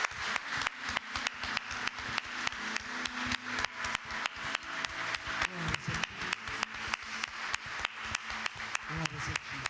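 Church congregation applauding during a family worship service, strong rhythmic unison clapping in a steady beat, moderately distant, with faint voices underneath.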